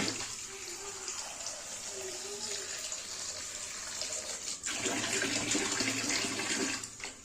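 Water poured into a bowl of greens from a tap, a steady rushing splash that swells louder in the second half, close by, with faint background voices.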